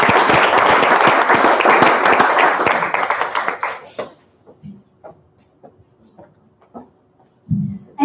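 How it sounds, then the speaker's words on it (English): An audience breaks into dense applause that holds steady for several seconds, then thins out to a few scattered claps and fades, with one last burst of clapping near the end. "I think this young man deserves another round of applause."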